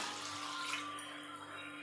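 Water is poured into a pot of rice and lentils with chopped vegetables for sambar rice, a steady, faint, continuous splashing stream under the hum of a home kitchen.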